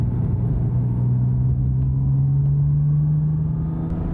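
A 1997 Ferrari 550 Maranello's engine pulls hard under acceleration, a loud, close, steady deep drone whose pitch climbs gradually as it gathers speed.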